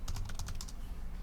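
Rapid clicking keystrokes on a computer keyboard as a search is typed, a quick burst of close, crisp taps in the first second that trails off, with no talking.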